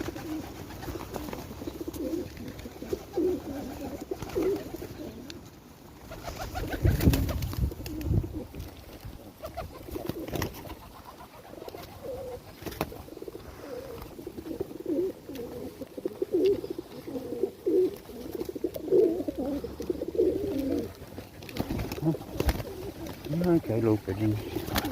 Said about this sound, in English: Pigeons for days.